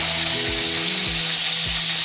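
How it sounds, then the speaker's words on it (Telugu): Green chillies and curry leaves fry in hot oil for an Andhra-style seer fish curry, giving a loud, steady, dense sizzle close by with no talking. "ఇలా ఆయిల్ హీట్ ఎక్కిన తర్వాత మనం కోసి పెట్టుకున్న పచ్చిమిర్చిని ఆయిల్లో వేయాలి. దాంతోపాటు కరివేపాకు కూడా వేసి"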